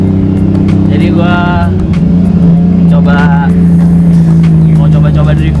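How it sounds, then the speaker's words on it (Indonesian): Nissan Cefiro A31 drift car with an RB25DET engine idles and warms up, a steady loud drone running throughout with slight rises, while someone talks over it. "Gua akan manasin mobil gua dikit lah, karena udah lama banget gak drifting"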